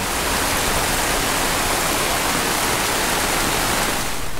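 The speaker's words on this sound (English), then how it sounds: "it's still raining" Dense, steady roar of heavy rain pouring down without a break at Raccoon Lake State Recreation Area, loud and close, with no voices or other distinct sounds.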